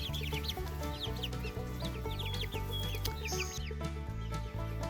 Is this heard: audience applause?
no